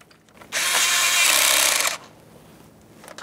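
A power tool runs in one steady burst of about a second and a half, snugging an ignition coil mounting bolt into the valve cover of a 2012-2018 Nissan Altima 2.5L during a spark plug replacement, with quiet before and after.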